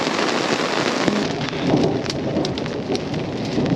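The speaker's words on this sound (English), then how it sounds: "the rain has let up just a little bit, but not a whole lot. The hail is still coming down a little bit." Heavy rain and hail pounding down during a mountain thunderstorm on a wilderness backpacking trail, a dense, loud, continuous hiss with scattered sharp pelting impacts.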